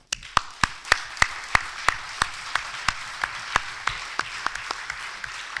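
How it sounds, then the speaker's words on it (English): Clapping from an audience at an event's opening remarks comes as a steady train of evenly spaced, crisp claps, about three per second, that gradually soften, with a faint room hum underneath. "I think we can give them a round of applause."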